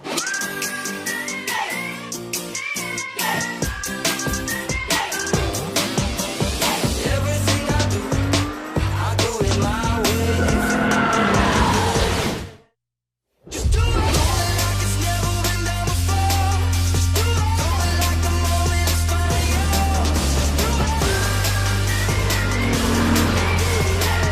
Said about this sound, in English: We're gonna do 1 lap around the track, time attack style, 1 car at a time.